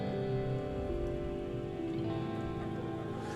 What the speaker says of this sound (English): Anemone scowls as she watches the rain come down.